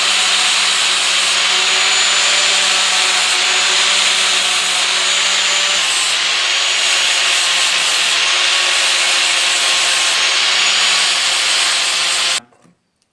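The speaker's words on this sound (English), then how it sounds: "I'm just going to finish this off with the flap disc" Flap disc grinding a blacksmith hammer head to dress it round: a loud, steady abrasive roar that runs unbroken for about twelve seconds, then cuts off abruptly.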